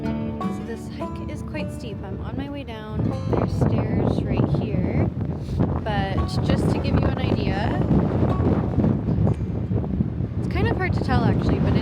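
Steady wind buffets the microphone with a low roar throughout while a person talks over it on a steep trail in Jasper, the gusts growing stronger partway through.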